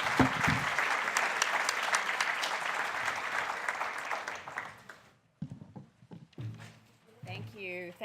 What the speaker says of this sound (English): give a big round of applause for our speakers